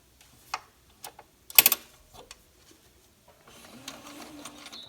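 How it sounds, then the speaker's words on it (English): Sewing machine stitching back over a face mask seam, with sparse quiet ticks and one sharp clack at first, then a soft continuous run of stitching near the end. "So turn it around and stitch back over that seam."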